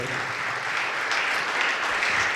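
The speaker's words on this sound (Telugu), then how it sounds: "మనందరినీ కూడా మరొకసారి కలిపిన దేవునికి కృతజ్ఞత తెలియజేస్తూ గట్టిగా చప్పట్లు కొడదాం" Loud, dense applause from a congregation at an inaugural mass, a steady wash of many hands clapping together that holds for the whole stretch without pause.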